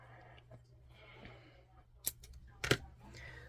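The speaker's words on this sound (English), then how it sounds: "I'm just going to snip my yarn right there." Scissors snip through knitting yarn, with two quick close cuts standing out sharply against a quiet room with a low background hum.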